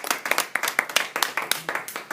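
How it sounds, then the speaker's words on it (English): Students clap steadily after a school speech, producing dense, moderately loud applause that continues throughout. "A round of applause."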